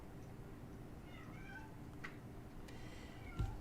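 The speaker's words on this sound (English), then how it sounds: "No, my cat is not being tortured." A house cat in its screaming fits lets out a few drawn-out, wavering meows over a steady low background hum, with a brief thump near the end.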